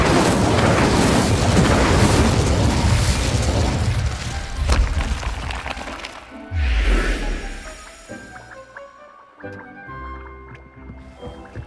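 A fire spell cast in Hogwarts Legacy: a loud whooshing burst with a low rumbling boom around the middle, over dense game music and ambience that fades into quieter tonal effects.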